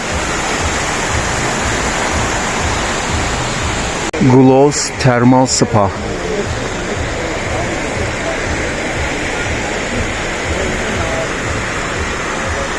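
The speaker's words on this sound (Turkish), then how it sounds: "ortadan bir dere akıyor." A stream rushing through the thermal bath district of Old Tbilisi, a loud steady wash of flowing water throughout, briefly overlaid by someone speaking.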